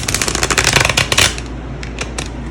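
Tarot cards from a deck with thin cardstock being shuffled by hand, a rapid close burst of riffling flicks that trails into a few scattered taps.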